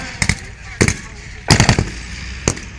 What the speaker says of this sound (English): The Norman Harrington's returned fire